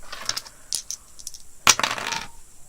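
Dice rolled across a board-game surface, giving a quick cluster of bright clattering clicks and a sharp impact that settle into a short rattle, close and alone.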